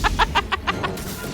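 A person imitates a chicken with rapid, punchy clucks, about six in a loud rhythmic burst that fades toward the end.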